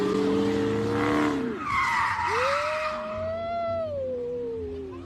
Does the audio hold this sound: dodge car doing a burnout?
yes